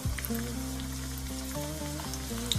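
Small cut chicken pieces frying in hot vegetable oil make a steady, close sizzle that holds at an even level throughout, with music playing underneath.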